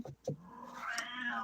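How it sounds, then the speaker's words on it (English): A cat meows and complains in the background indoors, with a couple of short chirps and then a drawn-out, rising and falling whiny meow, fairly faint. "I will probably still have complaints in the background, feline complaints."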